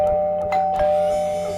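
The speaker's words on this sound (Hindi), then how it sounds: "मैंने डोरबेल बजाया।" A doorbell rings inside a home at night, a sustained electronic chime tone with a couple of soft strikes, heard alone without talk.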